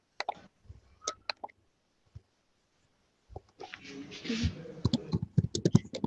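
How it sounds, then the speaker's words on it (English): Someone types on a computer keyboard over an online call, sparse faint clicks at first, then a denser run of keystrokes under a burst of background noise, close and quiet. "We can hear you typing something."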